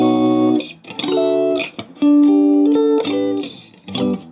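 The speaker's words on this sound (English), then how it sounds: "this is a very standard Fender single coil sound, right? Very clean" Fender Stratocaster played clean through a Fender-style amp on the neck-and-middle single-coil position, with volume, treble and bass set to 6. Bright, ringing chords and single notes are picked in short phrases, loud and close.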